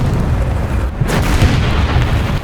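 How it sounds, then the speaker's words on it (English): An artillery shell strikes a tank in the War Thunder video game, giving a loud, dense, rumbling blast that fills the whole moment with heavy low-end roar and no talking. "I reckon that was artillery though."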